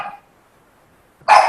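A dog barks twice, loud and close, one short bark at the start and another after a silent gap, with no talk over it.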